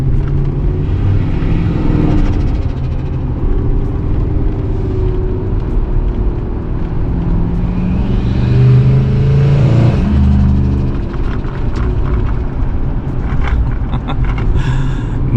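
Turbocharged Ford Fox Body Mustang with a 4.6 engine and 80mm turbo, revving hard from inside the car, a loud sustained engine roar that swells and falls with throttle, with faint turbo whistle above.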